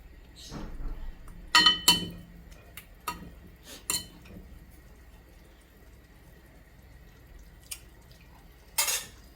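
Small onions are stirred into a tamarind curry in a pan, giving scattered clinks and scrapes of a utensil against the pan, with a few louder knocks among quieter stretches.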